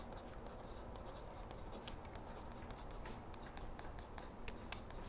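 A pen or pencil scratches across sketchbook paper in short, quick strokes, a soft and close scribbling that stays quiet throughout.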